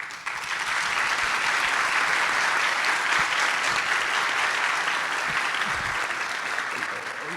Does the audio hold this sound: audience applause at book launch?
yes